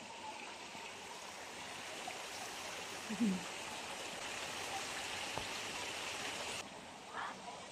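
Water from a spring in the Armenian countryside runs in a steady, continuous rush, close and moderately loud, with a brief voice and a few small knocks over the flow.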